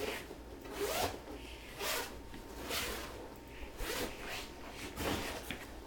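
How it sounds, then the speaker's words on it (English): The zipper on a children's bed sheet is pulled open in several quiet, close, rasping strokes at a steady rhythm. "this is the bottom part that you're always going to be zipping things on and off to"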